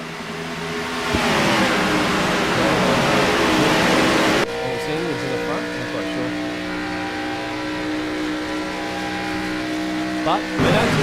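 Race cars restart under green at Michigan International Speedway, a loud, dense roar of many engines accelerating together with a sharp drop midway as the field rushes on, steady engine drone continuing throughout.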